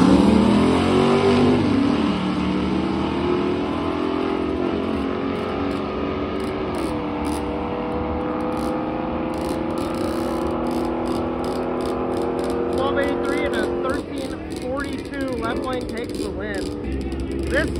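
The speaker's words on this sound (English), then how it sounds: "One has a new gen Hemi over here in the left lane, and then the right lane has a big block." Drag racing cars, a new-gen Hemi and a big-block, launching on a drag strip with a loud sustained engine roar that rises in pitch, under a commentator's voice.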